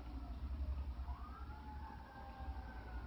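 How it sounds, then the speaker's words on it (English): A fire engine siren in southern Louisiana wails in a rising, sustained tone at moderate distance over a steady low rumble of traffic or engine noise, with no talking. "It's bizarre as hell when you hear that fire engine in southern Louisiana."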